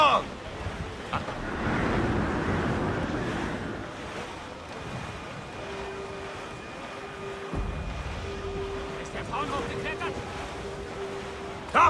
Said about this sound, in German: Oh, der Wind hier ist unglaublich!